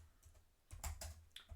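Code being typed on a computer keyboard, a brief close burst of crisp key clicks with a short pause, then a quick cluster of taps, quiet and alone.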